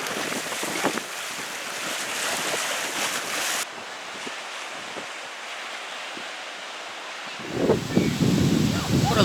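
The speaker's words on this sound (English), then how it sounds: "this is the beach at North Berwick" Waves wash onto the sandy beach at North Berwick amid gusty wind rumbling on the microphone, with a louder surge of surf toward the end.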